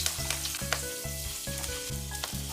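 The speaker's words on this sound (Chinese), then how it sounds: "锅里多放点油， 再把虾放进去" Starch-coated shrimp, dusted with sweet potato starch, fry in a generous amount of oil with a steady sizzle, partly buried under a louder rhythmic music track with a regular beat.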